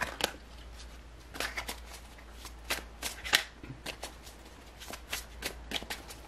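Tarot cards are shuffled and drawn at close range, a run of quick crisp riffles and slaps in irregular bursts over a faint steady hum, with no speech.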